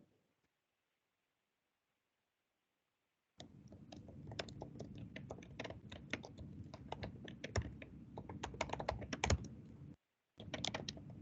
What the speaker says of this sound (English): we can hear your fingers typing furiously.